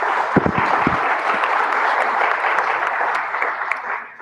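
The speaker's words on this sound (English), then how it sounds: "Please applaud our speaker." Audience at a security conference in Sofia applauds a speaker taking the floor, steady full applause after a few loud individual claps at the start, fading slightly toward the end.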